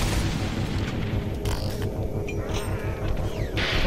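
Rocket launcher explosions in Doom 3 on Nintendo Switch, dense rumbling booms and bursts rolling continuously and loudly, with a few sharper blasts and some game music.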